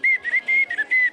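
A shrill handmade folk toy whistle that doubles as a bell, blown in several short, warbling toots, bright and close, with brief gaps between blasts.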